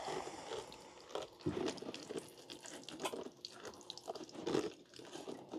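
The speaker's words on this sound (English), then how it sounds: "Give them a good watering." A small watering can sprinkles water over seed trays of soil, making a close, continuous splashing trickle with uneven bursts and no voices.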